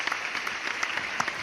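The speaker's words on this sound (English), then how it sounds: "Let's clap it up for that." A short burst of studio applause from a small group during a basketball talk show, with sharp individual claps standing out over a steady patter.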